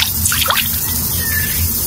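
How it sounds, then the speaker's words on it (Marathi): Fine water dripping down from above in a forest near a stream, a steady close patter of small drips and splashes. "बारीक बारीक पाणी येते वरनं"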